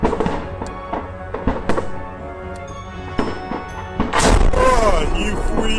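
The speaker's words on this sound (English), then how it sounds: "After the operation, explosions continued for a long time at the command center." Explosions keep going off at a destroyed military command center, heard as repeated heavy thuds and booms over a constant rumbling roar that swells louder toward the end.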